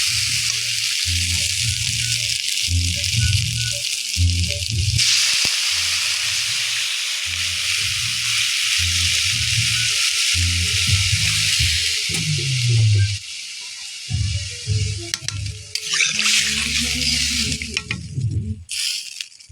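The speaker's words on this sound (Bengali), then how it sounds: "এবারে জল দিয়ে দেবো এটাতে।" Water poured into a sizzling curry pan: a loud, broad hiss and bubbling sizzle runs throughout, with steady low rumbling underneath and a brief surge of sharper hissing near the end, close by and without speech.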